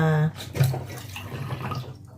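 Mineral water is poured into a cooking pot while making binignit, a steady watery splashing and trickling that follows a brief voice at the start.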